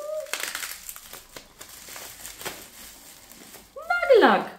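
Plastic wrapping on a small package of beauty products crinkles and crackles in short bursts, loudest near the end, with someone speaking over parts of it.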